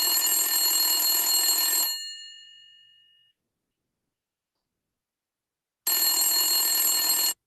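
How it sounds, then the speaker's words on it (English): A telephone rings loudly and electronically, with one long bright ring that trails off into silence, followed after a pause by a second ring. "You receive a phone call."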